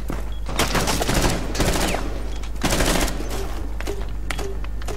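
Rapid automatic gunfire in Rainbow Six Siege on the Favelas map, loud dense bursts of shots with brief gaps, heard close over constant game ambience.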